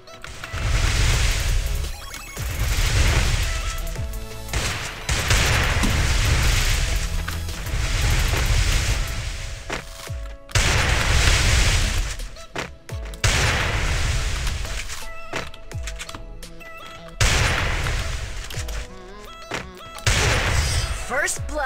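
Gunfire from a first-person shooter in a one-on-one custom match, with loud repeated bursts and single shots in rapid clusters and brief pauses between them, and a player talking excitedly over the fighting.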